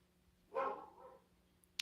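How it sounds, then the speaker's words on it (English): Dogs bark inside a house with thin walls, one muffled burst of barking at a moderate distance followed by a short sharp yip near the end. "Oh, crazy dogs."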